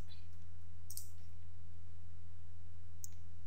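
A computer mouse clicked twice, about two seconds apart, each click short, crisp and close, over a constant low electrical hum.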